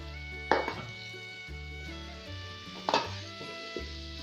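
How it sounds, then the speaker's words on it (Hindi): Cabbage and chicken being stirred in a pot for a home-style cabbage gosht curry, with two sharp spoon-on-metal scrapes and clanks against a low steady background hum, no speech. "अच्छी तरह से मिक्स करते जाएंगे।"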